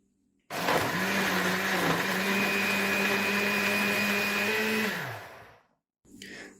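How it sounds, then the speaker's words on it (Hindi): A kitchen blender whirs loudly through pina colada with ice cubes and ice cream, starting abruptly, holding a steady high whine for about four seconds, then winding down and stopping before a brief restart. "और इन सबको ब्लेंड कर देंगे।"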